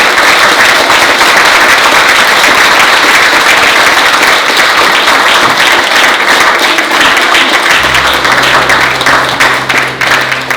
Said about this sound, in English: let's give the Maple Leaf Divers a round of applause